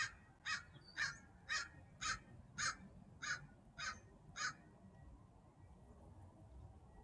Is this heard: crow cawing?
yes